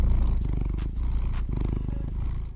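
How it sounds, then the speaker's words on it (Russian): A domestic cat purrs close up, a loud, rhythmic rumbling in steady pulses with soft breathy overtones, heard alone without any talking. "Мурлыканье."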